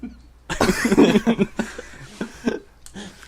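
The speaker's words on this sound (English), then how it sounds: "I clear my throat loudly" Someone clears their throat loudly and roughly in a few harsh, gravelly bursts close to the listener, followed by quieter breathy rasps.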